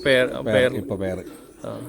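Pigeon cooing from a mother pigeon in a loft with young birds; several close, rounded coos come in short bursts, mixed with a voice talking nearby.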